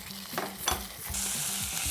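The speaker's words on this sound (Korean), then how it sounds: "냄비를 달구고 버터를 넣어서 녹인 다음에 쇠고기를 넣어서 볶을게요." Beef stir-frying in melted butter in a hot pot gives off a steady soft sizzle, with occasional scraping and clinking from stirring, fairly quiet and with no voices.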